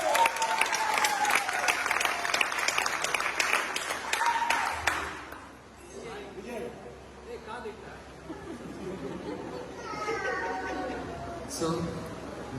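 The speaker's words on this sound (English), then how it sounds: "So big clap for him." Applause from a retreat audience rings out for about five seconds, then stops abruptly, leaving a room where people talk and murmur.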